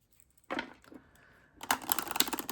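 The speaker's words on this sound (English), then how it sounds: "And one more shuffle, because I always shuffle 3 times." Crisp riffling and slapping of cards being shuffled, a short burst followed by a quieter pause and then a louder, busier stretch of shuffling close to the mic.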